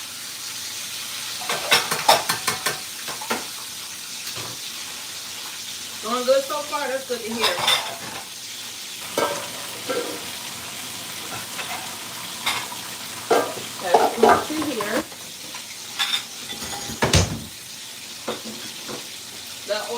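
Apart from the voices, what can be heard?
chicken frying in oil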